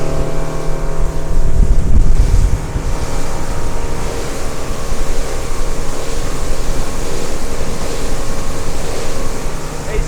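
A Cruise Craft 635 HT Explorer motorboat engine drones steadily underway, loud and close, with water rush and wind buffeting throughout.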